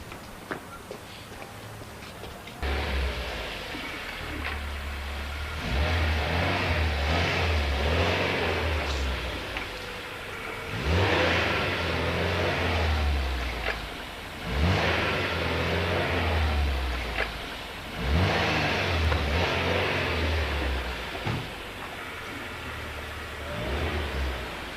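A car engine runs steadily nearby, with several swells of revving and faint footsteps mixed in, heard alone without talk.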